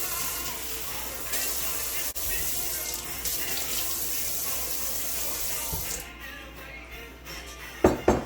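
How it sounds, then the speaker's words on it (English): Cold tap water rushes and hisses steadily as it pours over oats, a continuous splashing stream that cuts off near the end with a couple of knocks. "And then I'm gonna cover this with cold water."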